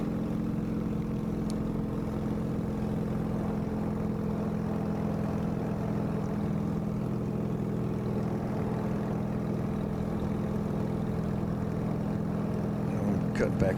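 Ultracruiser ultralight aircraft engine in flight, a steady droning hum that holds constant throughout, close and continuous, with someone talking over it.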